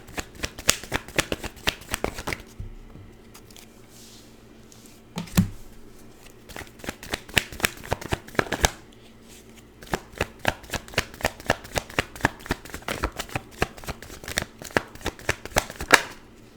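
Tarot cards shuffled in rapid bursts of crisp flicking snaps, close and fairly loud, with brief pauses between runs and no voices.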